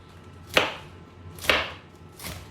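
A knife slices through a cored head of cabbage on a cutting board, three crisp, evenly spaced cuts close up, with quiet gaps between them and no talking.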